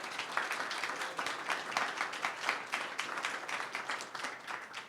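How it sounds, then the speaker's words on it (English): Audience clapping at a panel forum on IoT solutions, a dense steady round of applause that holds for the whole stretch and eases slightly at the end. "Let's have a round of applause."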